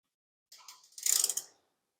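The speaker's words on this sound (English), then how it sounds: "Now, remove the bolt down on the steering box side." A wrench works a bolt on the steering box side of a Squarebody truck frame, giving a short, faint burst of ratcheting clicks lasting about a second.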